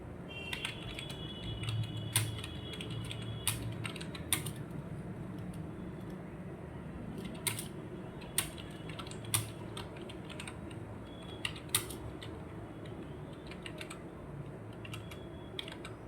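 Typing on a computer keyboard in Microsoft Word, irregular sharp key clicks scattered over a steady low background hum, fairly quiet and close, with no talking.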